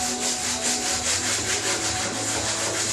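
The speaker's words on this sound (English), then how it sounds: "I'm using a 100 grit sandpaper to sand it down." Steady rhythmic rasping as 100 grit sandpaper is rubbed back and forth over white primer on a pine floor cabinet, close and continuous with no voices.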